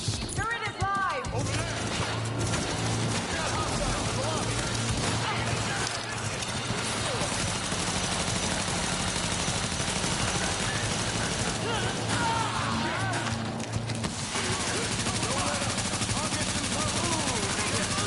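A deployed automated turret in the shooter The Division fires rapid sustained bursts amid dense, loud combat noise and other gunfire, with a voice heard over the din.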